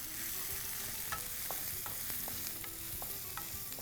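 Mushrooms sauté with salt and chili powder in a hot pan, a busy continuous sizzle broken by repeated scraping and clacking strokes of a spatula, close and steady, no voices.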